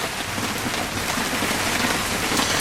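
Steady, dense patter of rain falling on surfaces close by, an even hiss with no pauses and no voices.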